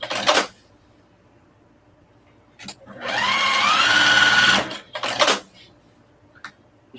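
A sewing machine stitches quilting lines through a fabric shopping bag in one steady run of about two seconds, its whirring motor rising in pitch, with brief handling clatter before and after.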